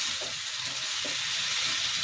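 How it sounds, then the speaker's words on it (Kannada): Tomato chutney frying in a pan, a steady close sizzle and hiss with faint scraping stirs now and then. "ಒಂದು 5 ಮಿನಿಟ್ಸ್ ಇದನ್ನು ನೀಟಾಗಿ ಫ್ರೈ ಮಾಡ್ಕೊಳ್ಳೋಣ."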